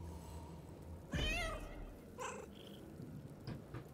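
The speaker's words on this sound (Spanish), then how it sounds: "Pueden maullar." A cat in the video game Baldur's Gate 3 lets out a drawn-out meow followed by a couple of shorter chirpy calls over a low rumbling background, close and fairly clear, with no talking.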